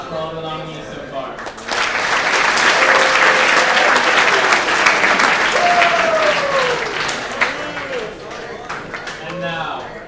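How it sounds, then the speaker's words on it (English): A crowd at a youth legislative assembly claps for the nominees, a dense, steady round of applause that builds quickly and holds, with a voice briefly heard at the start and end. "Let's have a round of applause for all the nominees so far."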